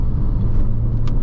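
A 2010 Porsche 911 Turbo warming up on the move in normal mode, a steady low engine rumble and road drone heard from inside the cabin, continuous and fairly loud with no talk.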